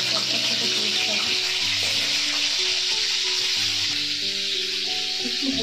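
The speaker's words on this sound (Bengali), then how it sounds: "তেলটা আমার গরম হয়ে গেছে, পটলটা ভেজে নিচ্ছি।" Pointed gourd (potol) pieces fry in hot oil, giving a steady, close hiss of sizzling throughout, with faint low voices or background sound underneath.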